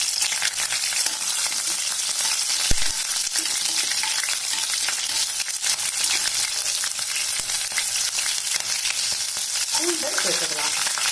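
Green chillies frying in hot oil for a Tamil varagu rice kichadi, a steady loud sizzle with occasional stirring scrapes, with no talk throughout.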